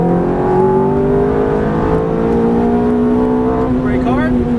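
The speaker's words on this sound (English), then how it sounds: "Back on throttle now, unwinding the steering wheel, and full throttle." A Ferrari F430 pulls hard at full throttle on a racetrack, its engine note climbing steadily and loudly with a short shift-like break near the end, while a voice talks over it.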